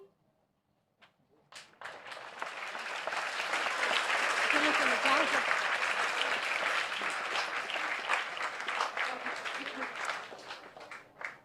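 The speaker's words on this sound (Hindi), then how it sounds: "तो आइए तालियों की" Audience applause rises after a brief pause and holds steady, with loud, dense clapping filling the hall before a devotional stage drama about Dhruva Maharaj's determination, performed by the KBV Nerul group.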